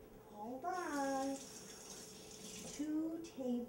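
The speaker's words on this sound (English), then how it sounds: "We have to put the water in." Tap water runs while a grandmother and child bake, a hissing stream under an adult and someone talking over it.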